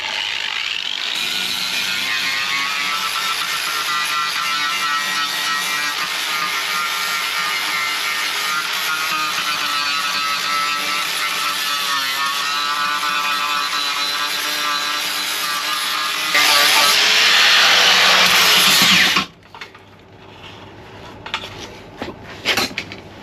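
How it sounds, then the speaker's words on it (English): An angle grinder cleaning sill metal on a Ford Fiesta Mk2 runs steadily with a harsh abrasive whine, rising to a louder, brighter grind near the end before cutting off, followed by faint workshop knocks. "So let's get the grinder set up"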